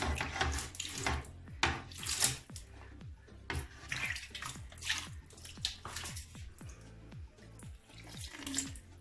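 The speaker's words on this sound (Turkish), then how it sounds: "Suyla yıkayalım. Bir maşrapa yardımıyla yıkayalım." Water poured from a mug splashes into a toilet bowl and sink in a series of close, uneven gushes and trickles, each pour followed by brief dripping.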